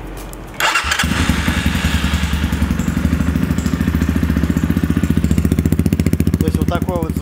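A Motoland XR250 motorcycle engine fires up and settles into a loud, steady idle with a rapid, clattering thump, close by and heard alone after a short quiet lead-in.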